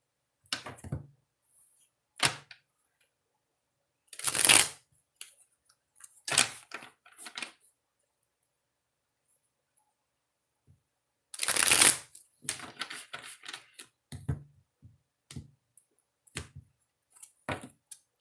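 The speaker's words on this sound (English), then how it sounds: "So I got to shuffle and then we'll get started." Tarot or oracle cards being shuffled in separate bursts of riffling and sliding, close and crisp against silence, with a few quieter taps and handling sounds between.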